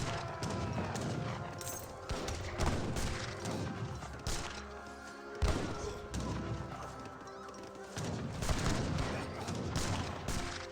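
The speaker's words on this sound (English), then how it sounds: "This great bombard needs to start firing." A great bombard cannon fires during an Age of Empires 3 battle, with several heavy booms and crashes amid scattered gunfire and clashing in a busy mix; faint talk is in the background.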